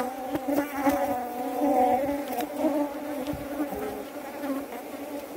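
A honey bee colony drones steadily during a hive inspection, the dense buzzing close and continuous, with faint clicks and handling noises underneath.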